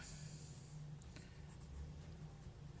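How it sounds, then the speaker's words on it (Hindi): Chalk or marker scratching on a board during a maths lecture on number properties, a steady faint rubbing and squeaking over a low room hum, with no voice. "यहाँ मैं लिखता हूँ"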